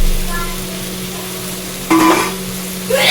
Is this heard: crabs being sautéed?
yes